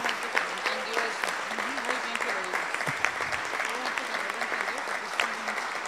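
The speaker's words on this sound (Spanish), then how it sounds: "Por favor, se ponen de pie, que se merecen un aplauso" Audience applauding a group asked to stand, dense clapping from a crowd with voices mixed in over the top.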